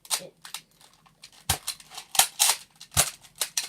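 A Nerf blaster held down and fired rapidly in slam-fire style, producing a quick burst of sharp, loud plastic snaps in an uneven rhythm, with a few louder shots standing out and no talking.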